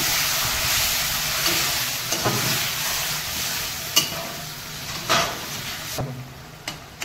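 Spice paste frying in oil for a Bengali boga fish curry sizzles steadily after water is added, with a dense hiss and scattered scrapes and clacks as it is stirred, no one talking.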